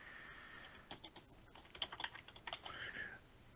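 Fast clicking on a computer keyboard during a game session, faint typing taps in short irregular bursts against quiet background hiss.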